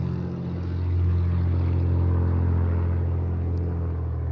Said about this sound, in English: There's more traffic than usual